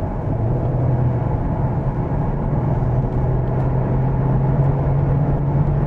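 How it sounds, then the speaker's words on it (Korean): A Genesis G70 3.3T 4WD picking up speed on the road, a steady low engine drone with a faint rising tone under constant cabin rumble and road noise. "약간 가속 페달을 밟아서 속도를 잠깐만 올려봅니다."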